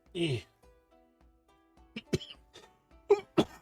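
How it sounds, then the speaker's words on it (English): A person coughs indoors, one harsh burst at the start and then a string of sharp rough coughs after a pause, close and fairly loud. "Been having still the cough with the stuff."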